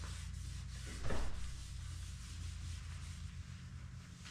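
A wooden pizza peel gets finish rubbed into its surface by hand, a soft, steady scuffing under a hushed background with one slightly louder swipe near the start.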